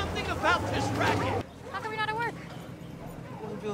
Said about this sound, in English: These dogs going crazy because of him.